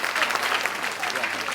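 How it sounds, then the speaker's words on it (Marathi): A studio audience at a women's TV game show bursts into loud, sustained applause, a dense and even wash of clapping with no pause. "एकदा जोरदार टाळ्या होऊन जाऊ दे जोरदार टाळ्या"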